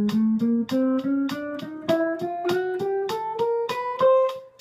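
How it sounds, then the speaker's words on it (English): Guitar chromatic picking exercise: steady, evenly picked single notes climbing step by step up the neck, each attack crisp and close, played alone in a regular rhythm. "it's based on the simple chromatic exercise that we learn when we're first starting"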